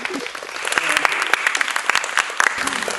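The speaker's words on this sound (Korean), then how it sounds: "박수 안 치세요?" An audience at a Korean business success-story talk breaks into applause, a bright, crackling burst of many hands clapping close by for about three seconds, with a voice briefly audible alongside.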